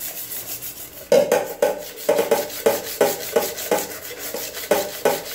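Sandpaper rasps back and forth across a metal milk vessel in quick, rhythmic scrubbing strokes, each stroke a close, gritty burst with short gaps between, and no voices.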